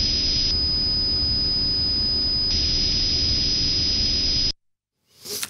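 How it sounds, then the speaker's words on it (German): Microphone noise mixed with a sine tone and slowed to one-eighth sample rate, a steady loud hiss with a constant pitched whine inside it, running for over four seconds before cutting to silence. "das jetzt mit einem Achtel der Abtastrate abspielt, dann schiebt man einfach das ganze Spektrum nach unten und halt auch mit dem ganzen Noise"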